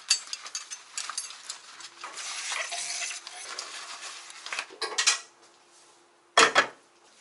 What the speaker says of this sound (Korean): 엄마 이거 설거지 잠깐 할게